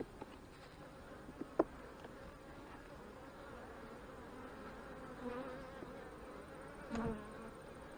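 Honey bees at an apiary hum in a faint, steady buzz during a quick hive inspection of a colony recovering from an artificial swarm, with a couple of brief clicks and light handling noises.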